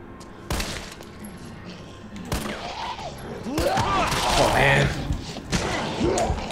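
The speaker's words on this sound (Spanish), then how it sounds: "Ocho tiros de pistola." Pistol fire in Resident Evil 3 Remake, a series of sharp gunshot bursts and thuds spread across the moment, mixed with game sound effects and creature noises, with people talking over it.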